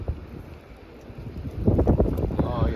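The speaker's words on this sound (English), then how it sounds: "now the wind's gonna go crazy" Wind gusting past a microphone while fishing outdoors on a drift in northern Nova Scotia, a low blustery rumble that swells louder toward the end, with faint handling noise.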